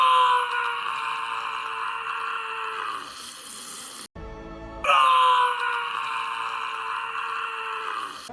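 A man imitates a dinosaur roar: a long, sustained, wailing groan held for several seconds, broken by a short noisy gap, then a second drawn-out roar, loud and close.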